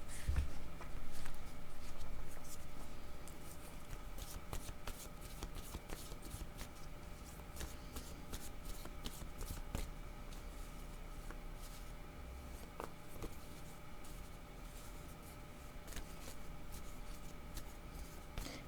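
Playing cards shuffled for a card reading, a quiet, steady rustle dotted with soft flicks and snaps that runs throughout, close by and alone.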